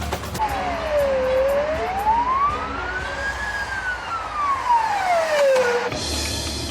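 An ambulance siren wails in a slow rising and falling sweep, fairly close, over steady traffic rumble with no talking.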